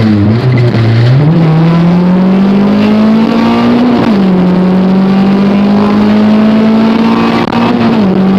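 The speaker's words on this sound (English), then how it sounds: "I'm putting the car through its normal paces" A Honda Civic with an H22 engine swap pulls hard on a street test drive, its engine note loud and close, climbing steadily through the revs with brief dips at gear changes and no talking.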